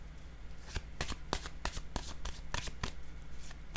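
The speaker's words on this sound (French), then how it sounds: "Je vais déposer une autre carte pour ici." Tarot-style cards are handled and laid down during a card reading, giving a series of crisp, close slaps and flicks in an irregular rhythm over a quiet background, with no talk.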